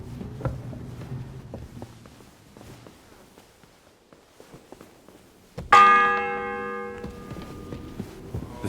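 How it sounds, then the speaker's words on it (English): A church bell strikes in a medieval town in Kingdom Come Deliverance 2, one loud resonant clang with a long ringing decay after quiet footsteps and ambient murmur. "The seventh bell."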